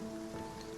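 Rain falls in the video game Spiritfarer as a soft, even patter. It is faint and steady and runs under a low sustained game tone, with no talk.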